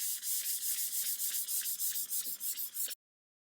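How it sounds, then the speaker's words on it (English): A sanding block rubs back and forth over a polished tumbler, about fifteen quick rhythmic scratchy strokes in steady succession before stopping abruptly, close and alone without speech. "So that just takes a nice sanding. I'm using this sanding block."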